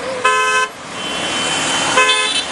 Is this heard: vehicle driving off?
yes